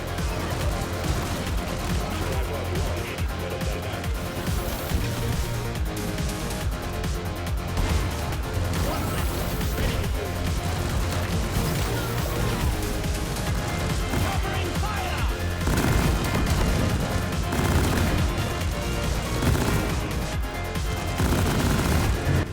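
Dense, rapid gunfire and bursts of explosions from Deep Rock Galactic, with a smart rifle firing explosive chemical rounds, a continuous barrage of shots and blasts for over twenty seconds with a voice faintly under it.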